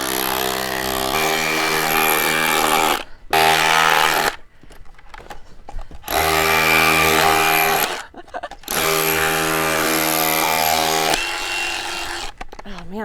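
A power drill bores into fluorite rock in loud, sustained bursts broken by short pauses, its whining motor running at varying pitch.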